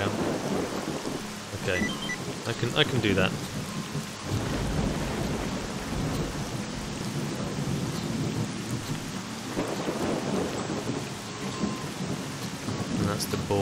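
Steady rain pours and thunder rumbles repeatedly in the video game S.T.A.L.K.E.R. Shadow of Chernobyl, with low rolling booms over the constant hiss and a brief spoken phrase in between.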